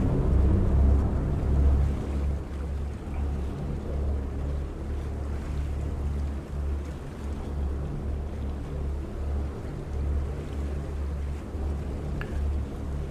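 A large boat of around 60 feet in Farming Simulator 25 rumbles with a low steady engine drone beneath a constant wash of water and wind noise.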